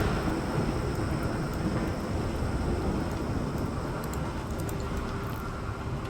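Thunderstorm in the video game Rimworld: a steady, loud roar of rain and rumbling thunder filling the whole stretch, with no talking.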